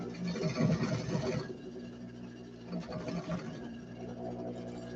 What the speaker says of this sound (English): I'm going to sew these.